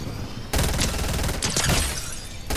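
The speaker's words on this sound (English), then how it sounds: "Oh, I'm getting shot." Gunfire in Fortnite, loud, dense rattling bursts that kick in abruptly and run continuously, with a renewed burst near the end.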